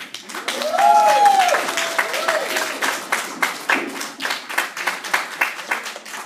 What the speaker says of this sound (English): So give a warm round of applause for Maria, ladies and gentlemen.